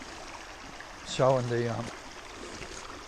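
Creek water at Murray's Corner flows as a steady, soft broadband wash beneath a man's brief speech, continuing evenly throughout.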